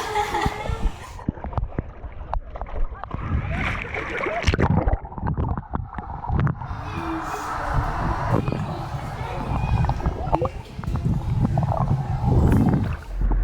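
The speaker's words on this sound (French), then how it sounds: "C'est reparti, les moteurs ont redémarré." Boat engines start back up on the sea near Mondragó, with low rumbling and churning water. Voices and other noise mix in over the engines.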